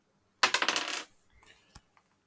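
Dice rolled for a solo game of Vanaheim clatter in a quick burst of rapid rattling clicks, then settle with a few softer ticks and one last sharp tap; no voices.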